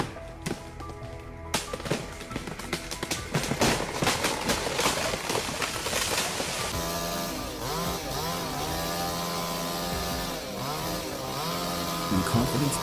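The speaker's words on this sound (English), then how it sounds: "The sound of chainsaws roars." Several chainsaws roar loudly while cutting a giant red cedar tree, their engines revving and bogging, with sharp cracks and taps early on before a steady, wavering whine takes over.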